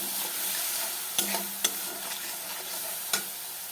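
Food in a pan hisses and sizzles after a little water goes in, with a spatula stirring and scraping and three distinct knocks against the pan's rim over the steady frying.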